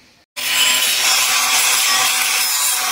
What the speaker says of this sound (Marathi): बघू शकता इथं ग्राइंडर मारायला चालू आहे, बाहेर काढायला चालू आहे.